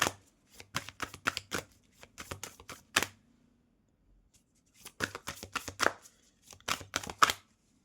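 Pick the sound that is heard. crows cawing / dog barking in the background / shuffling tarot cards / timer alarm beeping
shuffling tarot cards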